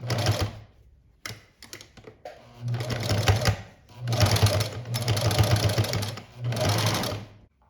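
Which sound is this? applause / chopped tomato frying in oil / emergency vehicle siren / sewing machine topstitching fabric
sewing machine topstitching fabric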